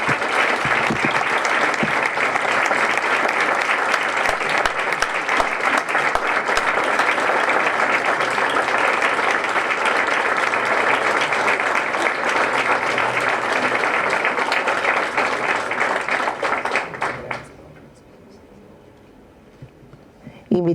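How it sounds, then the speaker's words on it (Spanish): Renewed audience applause at a Universidad Católica de Cuyo ceremony, loud sustained clapping from a large gathering that continues evenly for most of the span before cutting off sharply, leaving only quiet room sound and a small noise at the very end. "Renovamos el aplauso."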